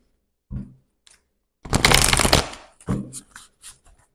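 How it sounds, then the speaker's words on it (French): Oracle cards being shuffled and drawn: a soft tap, then a brief flurry of riffling card noise followed by a few light flicks and taps, close and alone. "on va prendre une carte avec l'oracle de la lune"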